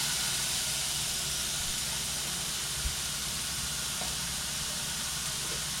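A hamburger patty sizzles in a preheated, oiled skillet: a steady, even hiss that runs unbroken throughout, with one soft knock partway through.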